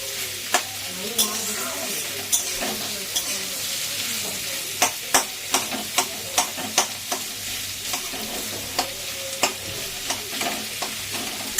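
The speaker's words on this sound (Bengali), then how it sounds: "আর এখানে পেঁয়াজটা ভাজা হচ্ছে" Onions fry in oil for a chicken biryani, a steady close sizzle punctuated by a series of sharp spoon-against-pan taps and scrapes as they are stirred, with no talking.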